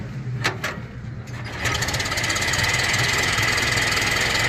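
A 1923 Ford Model T engine started with a hand crank: a few sharp cranking clanks, then the engine catches and settles into a loud, steady, rattling chug close by.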